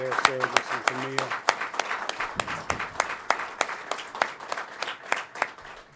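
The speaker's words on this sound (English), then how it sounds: "let us give a round of applause to Mecca and to Mario Nelson for their service, and to Mia" An audience at a New York tuition-waiver event for families of fallen service members breaks into steady applause with crisp individual claps, while a voice briefly speaks over the opening.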